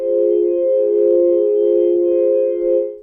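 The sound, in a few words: Roland JD-800 synth patch resembling Ocarina of Time teleport sound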